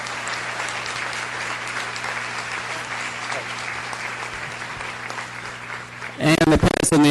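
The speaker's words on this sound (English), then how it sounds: "Let's give them a round of applause." An audience at a school board meeting applauds a cross-country team with steady clapping for about six seconds, then a burst of louder close claps at the end.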